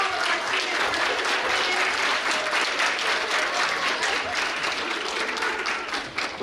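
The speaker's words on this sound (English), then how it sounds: "Let's get one more huge round of applause for all of our students." Audience applause for elementary students at a school district geography bee, a loud, steady burst of many hands clapping close by that carries on without a break and thins out slightly at the very end.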